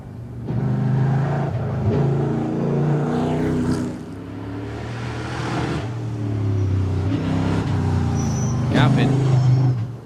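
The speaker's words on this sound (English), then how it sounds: "Here he is in the other Euro NASCAR." Euro NASCAR race car climbing the Goodwood hill at the Festival of Speed, a loud V8 roar rising and falling through gear changes, heard over steady commentary.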